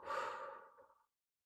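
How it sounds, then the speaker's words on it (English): A single slow exhale during a guided breathing exercise, soft and close, fading out after about a second into silence. "Exhale a bit more."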